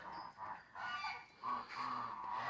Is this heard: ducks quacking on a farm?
yes